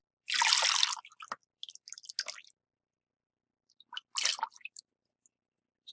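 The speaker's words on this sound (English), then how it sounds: "we're going to strain our lye water in." Lye water is poured through a strainer: liquid splashes and trickles in two short pours separated by silence, with wet drips and small splatters close by.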